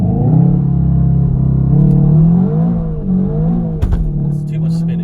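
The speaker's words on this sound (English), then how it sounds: "we're going to try launch control" Seat Leon Cupra 290 in Cupra mode with traction control off, engine held at high revs on launch control with a wavering, sustained drone that dips near the end, followed by a few sharp clicks, recorded from inside the cabin.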